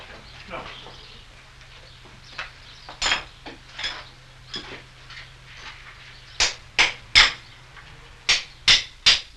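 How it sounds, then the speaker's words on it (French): A farrier's driving hammer strikes while the old shoe is worked off an ox's hoof, sharp metallic taps growing into loud evenly spaced blows toward the end, with a quiet hum beneath. "L'ancien fer est détaché du sabot à l'aide du marteau brochoir et du rogne-pied."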